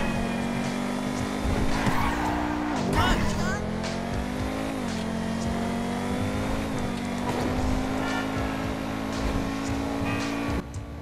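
Pegassi Osiris supercar in GTA V Online, a sustained high engine roar with revving shifts and tire squeals while driving, with someone talking over it.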